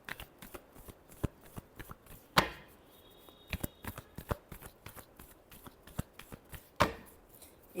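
Tarot cards are shuffled by hand, giving quiet, crisp riffles and slaps in an irregular rhythm with a couple of sharper, louder snaps along the way, close and unaccompanied by talk.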